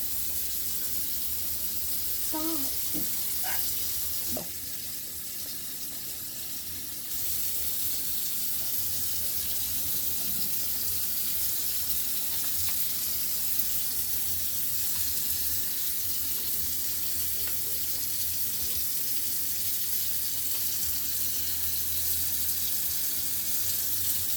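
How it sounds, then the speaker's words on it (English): Tap water runs steadily into a sink as hands are washed with liquid soap, a continuous close hiss with a few brief splashes and knocks early on. "going to wash my hands as the way the video showed and what my lab manual tells me to do"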